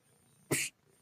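A single short sneeze bursts out close and clear against a faint, quiet background.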